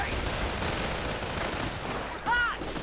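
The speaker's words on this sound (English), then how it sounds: "Sniper's firing away." Sniper rifle fire in the World War II strategy game Company of Heroes, brief gunshot cracks set within a steady din of battle noise, with a commentator's voice running over it.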